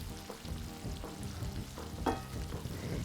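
Ground beef with freshly added chopped onion frying in a pan, a steady close sizzle with a few stirring scrapes and a brief louder clatter near the middle.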